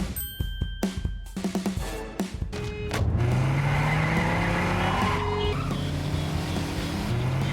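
Cars racing at high speed in a dangerous street race, engines roaring loudly with rising revs and tires squealing and skidding, after a few sharp thuds at the start; continuous, close and intense throughout.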